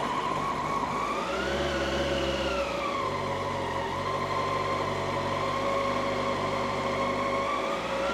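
A 1999 Yamaha R1 motorcycle engine idles steadily and close by, its continuous hum shifting pitch slightly as the revs rise and settle, with no talk over it.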